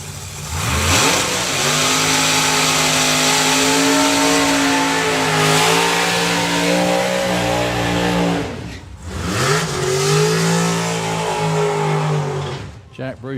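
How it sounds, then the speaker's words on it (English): A supercharged Pontiac drag car does a burnout at a drag racing festival, its engine revving hard in long rising and falling wails with a brief drop before revving again, loud and near, with a commentator talking over it. "a big old burnout with the supercharged Pontiac"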